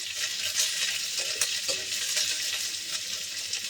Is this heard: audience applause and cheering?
no